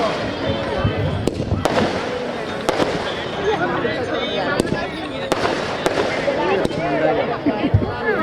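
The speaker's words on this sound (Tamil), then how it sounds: "வான வேடிக்கையை சற்று ரசித்துவிட்டு வருகிறேன்" Dense crackling fireworks at a Masi Magam temple festival in Omalur, with repeated sharp bangs bursting throughout, a busy continuous barrage with crowd noise and voices mixed underneath.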